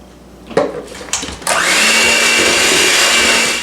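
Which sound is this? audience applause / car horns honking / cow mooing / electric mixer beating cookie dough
electric mixer beating cookie dough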